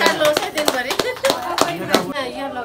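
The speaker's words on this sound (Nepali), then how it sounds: "ताली बजाउनु न सबैजनाले" Scattered group of people clapping at a wedding ceremony, uneven sharp claps in a loose rhythm close by, mixed with people talking.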